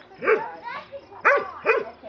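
A young dog gives several short, high yelping barks in quick bursts, close by, with brief pauses between them.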